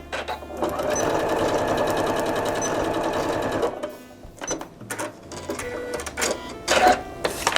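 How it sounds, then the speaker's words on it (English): A sewing machine stitches fabric along a line for paper piecing, a fast steady mechanical whir for several seconds, then stops, followed by quieter handling clatter. "we're going to take it over the machine and sew on that line"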